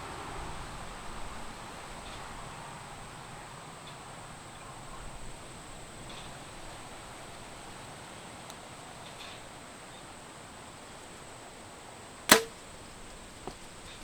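An arrow loosed from a Mathews Lift X compound bow outdoors in wind, heard as one sharp, sudden snap and whoosh standing out briefly over steady windy background noise, then a smaller click just after.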